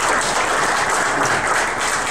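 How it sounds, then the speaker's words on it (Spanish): Sustained, dense applause from the audience at a Mesoamerican Indigenous pre-congress, applauding the panel; steady and full throughout with no voices over it. "Podemos dar un aplauso, por favor."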